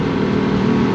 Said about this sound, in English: Can you tell the exhaust is really loud? The resonator flew off on the highway.